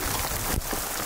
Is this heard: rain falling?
yes